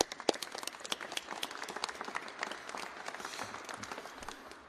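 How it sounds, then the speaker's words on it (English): Warm applause from the audience at a Minneapolis press conference after a deadly ICE shooting, steady dense clapping held at a moderate distance for several seconds, with no talk over it. "Would you please give him a warm round of applause?"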